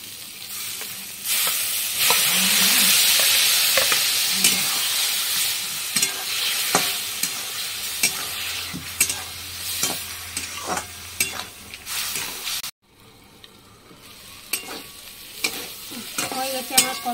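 Bitter gourd frying in a pan with cumin, mustard seed, garlic, chilli, turmeric and salt, a steady close sizzle broken by repeated scraping stirs, then quieter, sparser sizzling after a pause.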